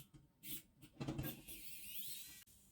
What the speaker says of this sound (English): Now let's remove these two screws at the front of this torch.